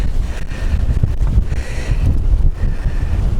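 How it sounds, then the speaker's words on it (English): Wind blowing on an outdoor walk up to Knob Lick Tower, a loud, continuous rumbling gust buffeting the microphone with low roar and faint rustle, no talk. "Well, the winds are blowing now."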